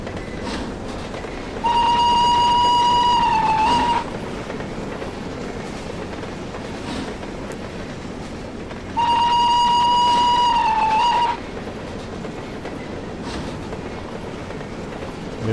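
A PKP Pm-2 steam locomotive runs in the Trainz 2012 train simulator, with two long steady whistle blasts rising over a continuous rolling rumble.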